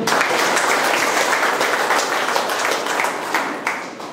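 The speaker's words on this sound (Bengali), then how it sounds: "তো এর জন্য একটা হাততালি হোক।" Sustained applause from a crowd at an insurance regional office opening ceremony, dense and loud, many hands clapping steadily throughout before tapering slightly near the end.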